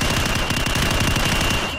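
Rapid bursts of automatic gunfire at targets in Call of Duty 4: Modern Warfare crackle continuously and loudly, forming a dense rattling volley without pause.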